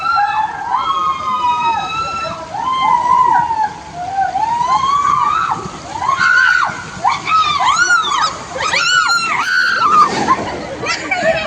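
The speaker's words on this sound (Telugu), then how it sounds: "అరుపులు కేకలు ఎలా ఉన్నాయో చూడండి ఒకసారి." Riders on an amusement park ride at NTR Garden in Hyderabad scream and shout in repeated rising and falling wails, a mix of many voices over steady background noise.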